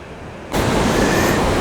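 A little creek flows through a rocky crevice near the river above Valley Falls in West Virginia, starting quiet then swelling into steady, close rushing water noise that fills the rest of the moment.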